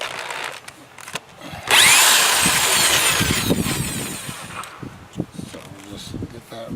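A screw driven back into a sagging wooden gate with a power drill, heard as a loud whirring burst of about three seconds that fades, with a voice speaking briefly around it.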